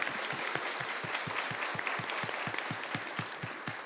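An audience at a panel discussion on customer service gives moderately loud applause from a crowd of clappers, with dense steady clapping and a few sharp rhythmic claps close by. The applause holds at an even level throughout.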